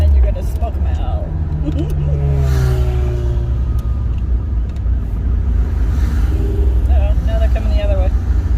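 Hot Honda cars rev their engines at a cruise night, a loud, steady rumble of engines building and swelling near at hand, with people talking over the noise.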